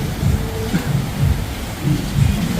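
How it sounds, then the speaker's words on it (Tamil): Heavy monsoon rain pours steadily, loud and close, with low rumbles of thunder rolling underneath for a few seconds. "விடாது இந்த மழை."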